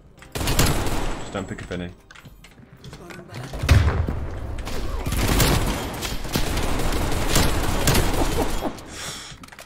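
Rapid gunfire and heavy thuds from the Type 63 rifle in the video game Black Ops Cold War, in loud bursts with explosive booms around the middle, under excited talk from a player.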